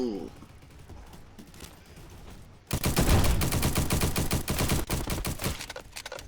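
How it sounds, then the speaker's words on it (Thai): Rapid bursts of video game gunfire, loud and dense after a quieter stretch of lighter shots and clicks, forming a sustained rattling barrage near the end. "โอ้ยิงไกลจังเลยแฮะเจ้าหมอนั่น"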